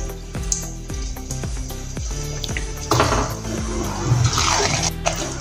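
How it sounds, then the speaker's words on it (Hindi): Packaged samosas go into hot oil for frying. A few light clinks and taps come first, then a soft, hissing sizzle rises and carries on close by, with no voices. "तेल गरम हो गया है। अब इसमें अपने पैकेट वाले समोसे डालेंगे।"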